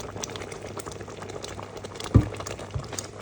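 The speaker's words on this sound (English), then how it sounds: "You can see like the lava-like boil now" Gooseberry jam boils hard in a pot, a close bubbling and plopping with one sharper pop midway, no talk.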